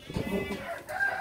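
Backyard caged laying hens clucking and crowing, a short burst of close, moderately loud fowl calls with no other sounds around them.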